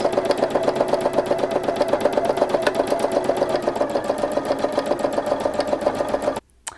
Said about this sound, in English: steadily sewing, and I'm not doing too much sewing, just going from side to side.